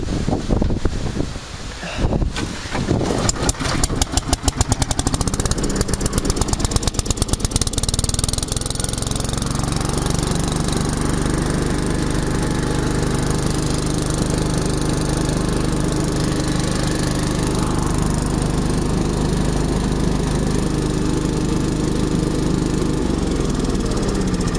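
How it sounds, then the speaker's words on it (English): A Billy Goat blower with a freshly rebuilt carburetor starts up with rough sputtering bursts and then settles into a steady, loud, close engine drone that runs on alone. "I was also working on the Billy Goat blower, and actually got this thing running pretty good."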